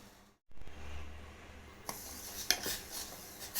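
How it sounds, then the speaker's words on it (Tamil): Semolina being stirred into milk in a pan for rava payasam, with a spoon scraping and clinking against the pan in a few sharp knocks over a low simmering hiss, close and moderately loud. "பால் ஊற்றிக்கலாம். ரவையை போட்டு கிளறிக்கலாம்."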